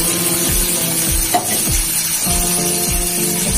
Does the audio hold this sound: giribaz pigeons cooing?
no